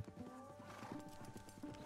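Arabian horse hooves clip-clopping in the Red Dead Redemption video game, a steady run of hoofbeats with brief whinnies and other game sounds layered over it.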